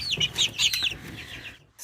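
Young chickens cluck and chirp inside their coop, a busy cluster of close, overlapping calls for most of the moment before a brief lull.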